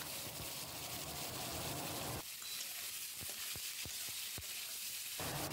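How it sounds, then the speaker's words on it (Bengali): Cauliflower florets frying in oil for khichuri, heard as a soft, faint sizzle that drops quieter midway, with a few sharp clicks of a utensil against the pan. "এবার ফুলকপিগুলোও ভালো করে ভেজে খিচুড়ির মধ্যে দিয়ে দেব।"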